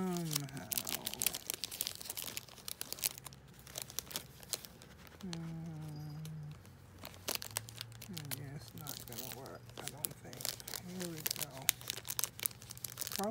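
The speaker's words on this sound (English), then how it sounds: "Packaging's kind of shredded, but I'm still going to try to put it in here." Shredded plastic packaging from an Azone Pure Neemo doll crinkles and crackles in loud close bursts while being handled, under intermittent talking.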